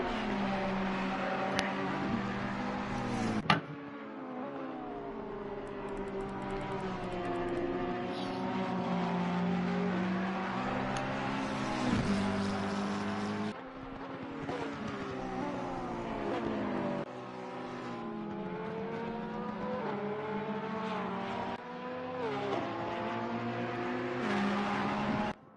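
The number 16 Porsche race car in Assetto Corsa Competizione at Watkins Glen, heard from on board, its engine droning steadily and rising and falling through gear changes for the whole lap section, loud and close, with no talking.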